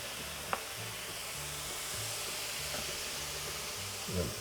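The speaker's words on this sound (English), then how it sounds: "Just pick up your patty, put it on, and we're going to cook these off just like a regular hamburger." Pork burger patty sizzling on a hot griddle, a steady broadband frying hiss throughout with a few faint clicks and low background hum, no talking.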